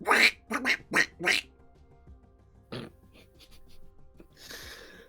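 A person imitates a duck with four quick, raspy quacks close to the mic, followed by a snort-like squawk and a breathy noise.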